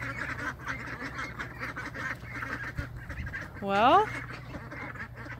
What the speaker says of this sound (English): Little duck go after a big duck, I see.